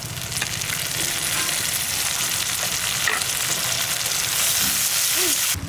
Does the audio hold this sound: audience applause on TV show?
no